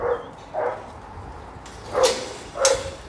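Dogs with a sheep flock outdoors bark several times, distinct, fairly close barks spaced apart, with quiet background between them and no voices.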